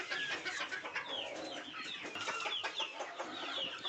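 Desi (gavran) country chickens clucking, several birds close by, with overlapping, continuous busy clucks and calls.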